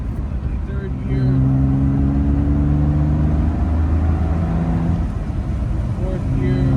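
A 1965 Aston Martin DB5 accelerates in third gear on a road test, its engine droning loud and steady from inside the cabin with a rising note, after a brief gear change at the start.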